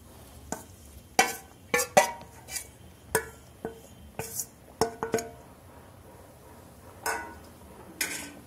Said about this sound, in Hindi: इसको अच्छे से मिला लेंगे हम अब हम इसको जब तक चला लेंगे चलाते रहेंगे